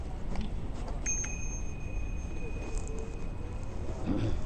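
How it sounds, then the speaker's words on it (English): A bicycle bell on the Stanley Park seawall bike trail in Vancouver gives two bright rings over steady wind and road rumble while cycling. "Yeah, bike bell is great."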